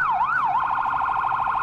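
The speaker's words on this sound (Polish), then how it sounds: "Kurde, policja gdzieś jedzie." Police car siren blaring close and loud, first a slow rising-and-falling wail, then switching to a fast rapid warble that continues steadily to the end.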